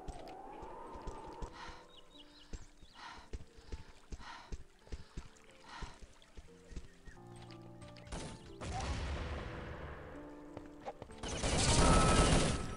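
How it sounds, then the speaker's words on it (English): Grenade blast and gunfire in the Urban Zone video game during a competitive match: scattered sharp shots and clicks, then a swelling rumble and a loud, broad explosion burst near the end, fairly faint overall. "Oh, nice nade by Mustang."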